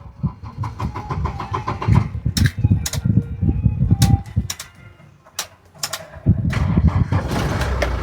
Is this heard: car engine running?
yes